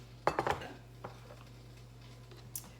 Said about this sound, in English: Now we can start the mixing.